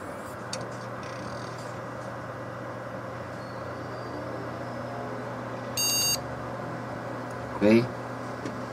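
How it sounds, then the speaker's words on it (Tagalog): A desktop computer restarting gives a short electronic BIOS POST beep, followed by a second brief tone, over a steady fan hum in a quiet room. "pakinggan natin yung beep codes ulit."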